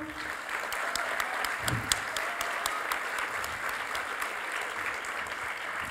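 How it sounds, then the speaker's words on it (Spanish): Audience at a political congress on women and politics in Latin America applauding steadily for several seconds, a dense wash of clapping from a large crowd with a few sharper claps standing out. "a una compañera que es Beatriz Sánchez, le voy a pedir un aplauso"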